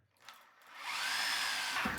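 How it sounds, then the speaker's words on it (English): A hammer drill with its hammer action not working spins up after a brief quiet start, then holds a steady, high-pitched whirring drone until the end. "Who buys a hammer drill that doesn't hammer?"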